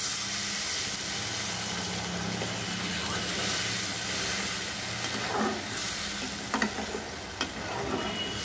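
Water is added to a hot pan for a Bengali fish head curry, giving a loud continuous hissing sizzle with steam and a few light knocks of the pan.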